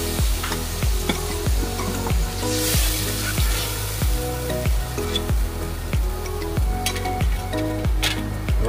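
Doi Katla fish curry bubbling and sizzling in a pan after milk and water are poured in, a steady frying hiss with regular, rhythmic pulses throughout, close and moderately loud.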